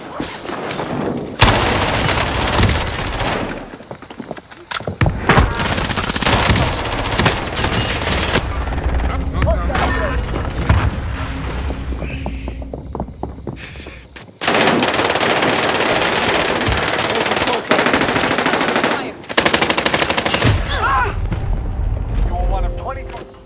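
Gunfire in the video game Call of Duty Warzone on Rebirth Island: loud, dense automatic bursts and rapid shots that come and go in long stretches, with occasional booms and talk in between.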